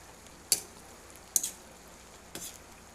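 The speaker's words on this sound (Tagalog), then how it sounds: "So, hahalo-haluin natin" Mixed vegetables cooking in a pan are stirred three times, each stir a short sharp scrape standing out over a faint background sizzle, spaced about a second apart.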